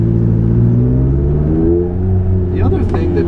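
McLaren 570S sports car accelerating, a loud rising engine drone with climbing harmonics close to the listener, and a voice briefly breaking in near the end.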